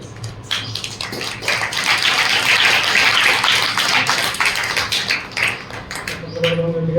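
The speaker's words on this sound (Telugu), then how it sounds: "చప్పట్లు కొడదాం." Congregation applauding in a church at the close of a sermon, a dense, steady wash of many hands clapping together for several seconds, fading out as it ends.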